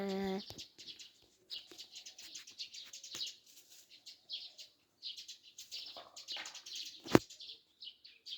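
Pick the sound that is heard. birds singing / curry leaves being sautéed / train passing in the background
birds singing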